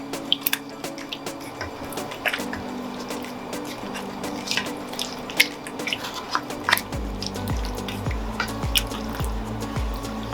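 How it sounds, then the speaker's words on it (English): One cup of water being added to a cooking pot for a peanut butter stew with carrots and sweet potato, with close, irregular splashing, dripping and trickling sounds over a low background hum, and no voices. "That was 1 cup of water that I added."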